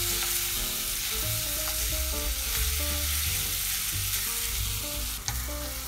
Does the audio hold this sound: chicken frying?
yes